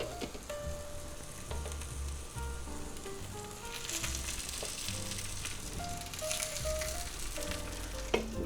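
Spam fries in a pan alongside an instant potato cake, giving a continuous close sizzle and crackle at moderate volume, with a few light clinks over it.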